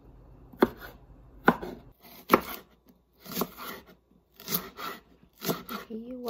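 Garlic being chopped with a knife on a cutting board at home, a few short bursts of close, sharp chops spaced about a second apart, with a voice speaking in between.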